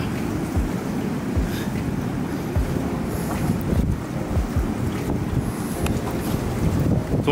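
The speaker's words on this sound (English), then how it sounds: "all you hear is just the waves just crashing down in the corner, and just literally that go of the wave just coming in the wind" Ocean waves crash and roll in beside a Maldives water villa, with steady wind buffeting the microphone into a constant low roar; the surf surges repeatedly, close and loud, with no talking.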